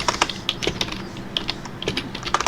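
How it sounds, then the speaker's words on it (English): Quick bursts of keystrokes on a computer keyboard, close and fairly soft, irregular clicks typing a short word with no talking. "I'm going to type in barrel."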